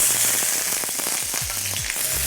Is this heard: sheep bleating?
no